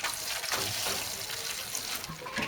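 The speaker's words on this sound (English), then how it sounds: "pat it down and give it a water." Water poured from a can or tap onto a small seed tray of levelled, patted-down compost for sowing peppers, a steady close splashing trickle running throughout without pause.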